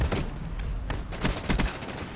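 Gunfire in the Counter-Strike (CSGO) video game, with a rapid burst of shots and several sharp reports, loud and close, and no talking.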